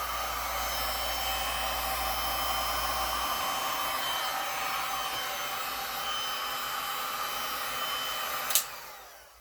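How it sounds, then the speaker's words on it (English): A heat gun blows steadily on a Dutch resin pour on tile, a loud, close, continuous whooshing roar with a lower hum that drops out partway through, ending in a sharp click as it shuts off. "Heat gun went in that time."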